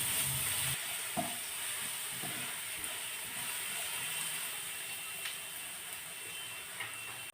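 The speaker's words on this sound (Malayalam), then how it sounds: "വെളുത്തുള്ളിയുടെ ആ പച്ചമണം ഒന്ന് മാറുന്ന വരെ ഒന്ന് അതൊന്ന് വഴറ്റിയെടുക്കണം" Crushed garlic sautéing in a pan, giving a constant faint hiss of frying with occasional light scrapes and taps from stirring throughout.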